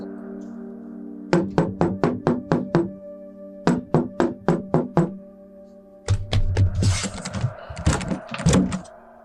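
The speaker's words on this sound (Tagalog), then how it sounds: "May mahinang katok sa pinto" Soft knocking on a wooden door comes as a rapid run of about seven taps, then a pause and another run of six. A denser, busier flurry of knocks and thuds follows, all fairly close and clear against a quiet room.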